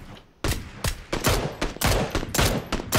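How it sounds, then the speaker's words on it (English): Gunfire in a video game, a burst of sharp, loud shots in quick irregular succession, close and punchy, with no talking. "Shot him twice."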